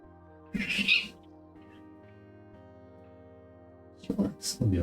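A house cat meows a few times near a desk during a game engine coding stream, with bursts of sound at the start and end and a steady low hum of a computer between them.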